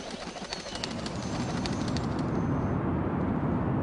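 Pigeons cooing in a flock, a dense, steady murmur of low coos that swells slightly and then holds constant, with faint chirps above it and no speech.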